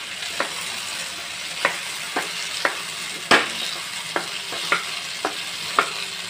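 Brinjal and drumstick pieces being sautéed in a pan for a medicinal South Indian kuzhambu: a soft steady sizzle with regular scraping strokes of a spoon roughly every half second, fairly quiet and close.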